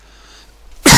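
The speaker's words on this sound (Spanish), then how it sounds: "Y ahora voy a toser" A single sudden cough bursts out loud and close at the very end after near silence, abrupt and harsh.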